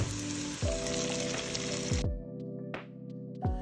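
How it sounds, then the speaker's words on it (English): Broth poured into a hot gumbo roux in a pot makes loud, steady sizzling and frying with occasional stirring scrapes, and the bubbling dies down sharply partway through. "Now we're going to add some of this broth in here."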